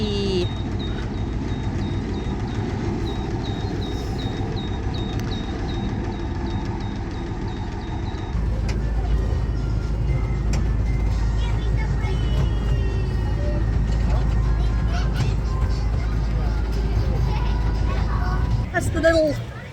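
A small ride-on train at Drayton Manor theme park rumbles along from the zoo with a steady low engine hum, while people chatter in the background.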